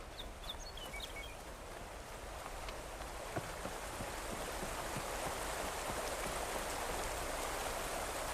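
Steady rain in Horizon Forbidden West, a constant hiss of falling drops with a few bird chirps early on, continuous and even with no talking.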